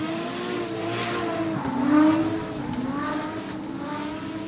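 Car number 97, a matte black race car, drives on a track with a strained, climbing engine note and a brief squeal-like tone near the middle, heard at moderate loudness with no voices.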